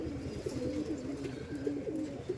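Madras pigeons coo close by, giving a steady series of low, soft, rolling coos that repeat over a faint background.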